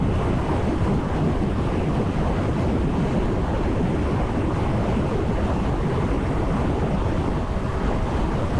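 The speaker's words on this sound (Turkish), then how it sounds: "Şu an karşıdan rüzgar geliyor" Loud, constant wind buffeting roars across the whole recording, a dense rushing noise of headwind while riding a Kymco AK 550 motorcycle at high speed, with no other sounds.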